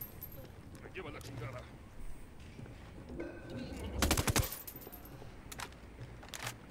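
Gunfire in the Ghost Recon Wildlands video game comes as scattered sharp shots and a short rapid burst in the middle, moderately loud amid low background game sounds.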